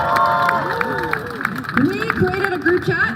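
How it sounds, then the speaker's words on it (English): Scattered clapping and cheers from a crowd at an outdoor pro-Palestinian rally in Vancouver, mixed with overlapping voices and crowd babble. "Give yourself a round of applause because we made this happen today."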